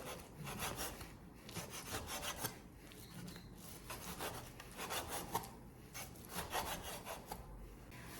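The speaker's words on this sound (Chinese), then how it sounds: "条切好之后，我们再给它改成小丁。" A knife dices strips of raw beef into small cubes on a cutting board, a fast rhythmic run of close, dry chopping strokes with no talking.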